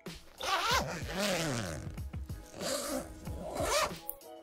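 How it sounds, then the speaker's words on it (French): Tent zipper pulled as a foley effect, a series of close, rasping zip strokes with short pauses between pulls. "Là, c'est la fermeture éclair de la tente."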